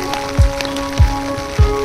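Monsoon rain falls in a Konkan village as a steady wash of hiss, broken by three soft, low thuds of heavier drops landing at roughly even intervals.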